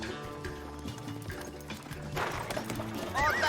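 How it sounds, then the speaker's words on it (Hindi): A herd of buffaloes thunders past in a Hindi Daltons cartoon, a steady rumbling patter of hooves that grows louder toward the end. "भैंसों का झुंड है।"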